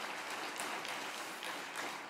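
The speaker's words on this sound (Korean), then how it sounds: "우리 하나님 앞에 다시 한번 큰 영광의 박수 올려드리도록 하겠습니다" A church congregation at a Korean Wednesday worship service applauds in steady, dense clapping that fills the room for a couple of seconds.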